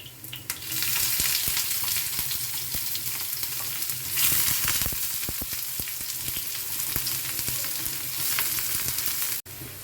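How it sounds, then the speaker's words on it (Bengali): Onion fries in a frying pan with loud, dense, continuous sizzling and occasional scraping stirs, ending in a brief drop. "একটু ভাজা হয়ে এসছে, এবার এর মধ্যে দিয়ে দেবো পেঁয়াজ।"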